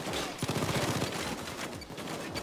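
Sentry gun fire in the heist game Payday 2, a continuous rapid stream of automatic shots at a steady loudness, with busy game noise mixed in.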